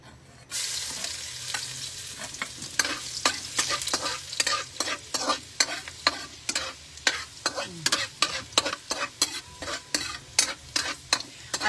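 Garlic and onion sautéing in a pan for pancit, a continuous sizzle broken by a rapid, regular series of spatula scrapes and taps, close up and without any voice.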